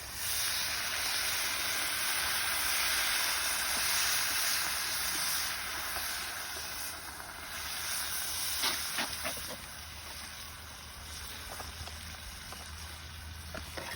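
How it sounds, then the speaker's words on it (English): Beef broth poured over sauteed onions and garlic for a deer meat stew, giving a steady loud hiss and sizzle that eases slightly partway through, with a few faint clinks near the end. "we're gonna add some beef broth"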